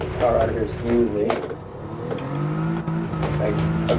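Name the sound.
car engine accelerating out of a corner in video game Gran Turismo 7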